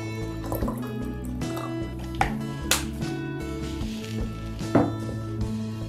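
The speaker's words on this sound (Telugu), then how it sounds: "వాటర్ యాడ్ చేసుకుంటున్నా." Water trickles and splashes as it is poured into a glass holding a chain for a floating candle, a quiet, close pour with a few brighter drips and splashes and no talking.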